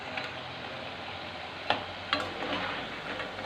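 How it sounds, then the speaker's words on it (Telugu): Food frying in hot oil gives a steady, soft hiss that runs unbroken, with a couple of sharp clicks of stirring or spattering near the middle, close and fairly quiet. "ఇక ఇలా ఫ్రై చేసుకోవాలి మంచిగా"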